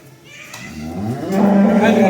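A large pregnant cow lets out a long, low moo that swells louder toward the end, close by.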